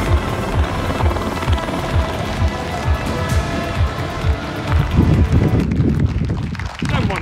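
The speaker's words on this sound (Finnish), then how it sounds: "mä löysin sille helikopterikyyri" Helicopter heard up close with a loud, steady rhythmic rotor chop and wind buffeting the microphone, continuous throughout, with a voice talking over it.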